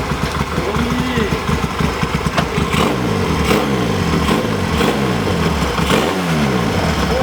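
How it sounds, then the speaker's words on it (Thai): A two-stroke Yamaha Wave motorcycle engine is revved repeatedly close up, rising and falling in sharp bursts over a rough idle, loud and dominant throughout. "ขับดีเสียงหวานเลยเดี๋ยวลองฟังเสียงกันเลย"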